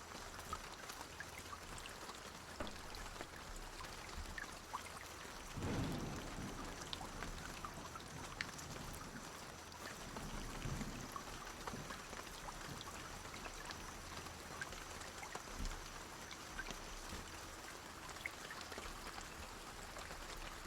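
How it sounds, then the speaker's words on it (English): Rain falls steadily in the survival video game Escape the Pacific, a faint continuous hiss and patter with occasional low rumbling swells, with no talking over it. "Nah, the rain just came when I didn't want it to come."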